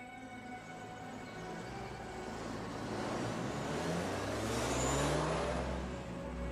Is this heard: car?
yes